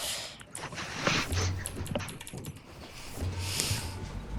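Computer keyboard keys tapped in quick, uneven bursts at close range, fairly faint and steady, with no talking.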